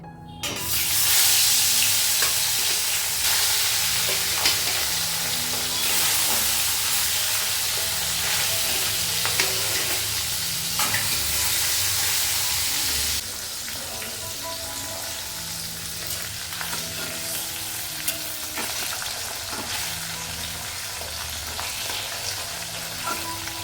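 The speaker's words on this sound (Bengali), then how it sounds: "ওইদিকে তো মাছটা ঢেকে ঢেকে ভাজছি" Fish fries in a covered pan, giving a loud, dense, continuous sizzle and hiss up close that drops slightly in level about halfway through, with faint background tones and no speech.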